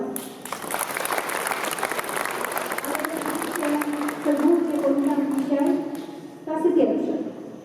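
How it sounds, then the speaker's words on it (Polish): Applause from a crowd at a school year opening ceremony fills the room, with a voice speaking over it and a sustained musical tone rising toward the end. "Brawa dla"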